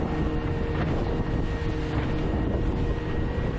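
Strong wind roars across a boat out on the water during a fishing trip, a dense, unbroken buffeting rush that stays loud and even from start to finish.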